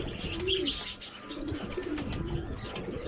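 Pigeon chicks being hand-fed, giving soft repeated coos and chirping calls close by, steady through the short stretch with no talk.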